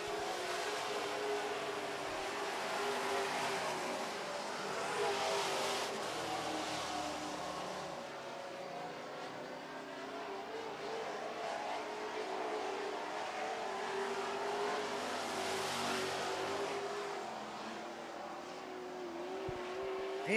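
Super Trucks race around an oval track, their engines a steady, loud roar that swells and fades as they pass, heard from the stands.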